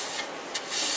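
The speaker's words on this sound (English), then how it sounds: "Sanding." Sandpaper rasping across a wooden sushi platter in a dusty workshop: steady close scratchy rubbing with brief brighter bursts, no voices.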